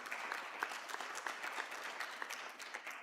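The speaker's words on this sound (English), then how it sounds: "big round of applause for him" Audience applause at a medical CME session, a brief burst of steady hand-clapping from a modest crowd, close and continuous for a few seconds.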